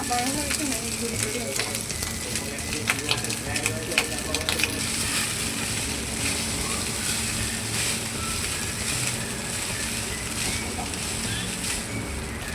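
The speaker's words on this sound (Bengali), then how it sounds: "এদিকে গোটা গরম মশলা ফোড়ন দিয়ে দিয়েছি, খালি ঘি গরম করে। দিচ্ছি ভাত।" Cooked rice frying in hot ghee with whole garam masala makes a continuous, fairly soft hiss and crackle, with scattered stirring scrapes early on.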